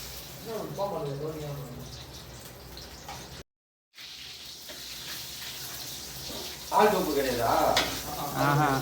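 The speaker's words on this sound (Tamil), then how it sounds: "முதலில் அடுப்பை பற்ற வைத்து எண்ணெய் ஊற்றி கொள்ளவும்." Cooking oil heats and sizzles in a pan on a lit stove for pasta, a steady frying hiss that runs beneath women chatting over it, with a brief dropout partway through.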